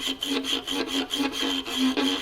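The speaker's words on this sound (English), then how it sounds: "That sound is actually the hair jiggling on the string" Violin bow drawn crooked across a string so the hair jiggles, giving a buzzy, raspy rubbing drone with rapid rhythmic pulses, close and steady for about two seconds, no talking.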